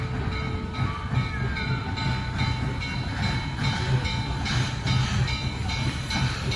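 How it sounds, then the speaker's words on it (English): A steam locomotive train in Cumberland rumbles steadily with low mechanical noise and faint rhythmic clatter, a continuous rail sound with no talking. "we got a train right here. Steam locomotive, yes."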